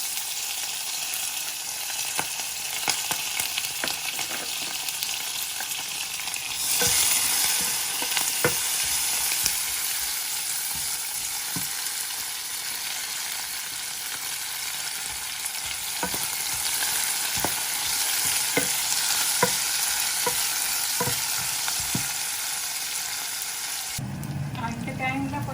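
Onion, green chili, garlic and curry leaves frying in a pan for a Jaffna-style brinjal, potato and tomato curry, a steady loud sizzle with stirring scrapes throughout that swells when the ingredients go in.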